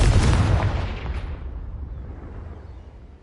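A Confringo blasting spell explodes in Hogwarts Legacy: a single loud, close boom that bursts open and then rolls away into a long, fading rumble, with no voices.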